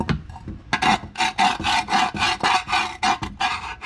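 Rust is scrubbed off the inside of an engine cover from a 351 in a Fox Body Mustang, with close, loud rasping strokes repeating in a steady back-and-forth rhythm and no talk.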